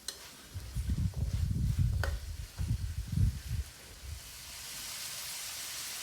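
Stink beans stir-fry in a pan with southern Thai curry paste and minced pork, giving bursts of sizzling and scraping stirring strokes that fade to a soft steady hiss near the end.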